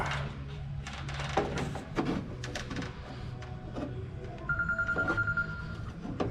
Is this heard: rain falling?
no